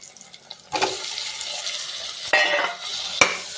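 Tomatoes hit a hot pan for biryani with a sudden sizzle, then fry with hissing bursts as they are stirred, several sharp flare-ups close by, no talk.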